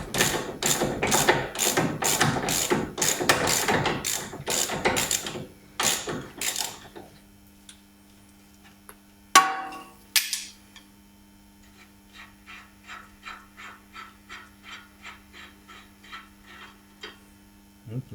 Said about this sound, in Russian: Далее удерживаем тягу стабилизатора с обратной стороны и откручиваем